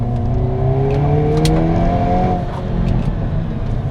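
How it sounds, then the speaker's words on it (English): A Hyundai Elantra N or Kona N engine drones loudly and steadily as if driving under load, with a few faint sharp crackles of exhaust pops. "exhaust pops, which coming from a car like this is kind of wild."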